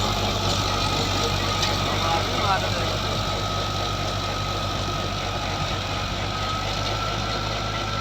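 A Ghazi tractor engine runs steadily under load while driving a 54 rotavator cutter through soil, a continuous close rumble with a constant low drone and no pauses throughout.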